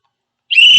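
Silence, then a sudden loud, shrill blast from a cheap pea whistle with a ball inside, a slight rolling trill, sustained to the end.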